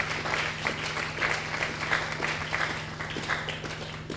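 A church congregation applauds and cheers in acclaim of the Lord, a steady wash of clapping with a few raised voices, sustained and fairly close over a low continuous hum.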